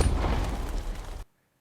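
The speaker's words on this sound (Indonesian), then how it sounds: "Tak lama kemudian suara pistol pun terdengar." A pistol gunshot in a dramatic film scene: a loud, broad blast with a booming low end that rumbles for about a second before cutting abruptly to silence.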